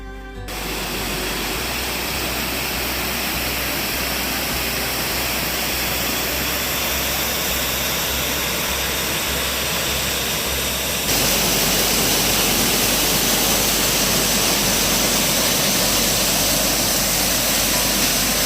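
Long Creek Falls, a waterfall just off a hiking trail, roars as a loud, continuous broadband rush of falling water with no voices, the noise growing slightly brighter partway through.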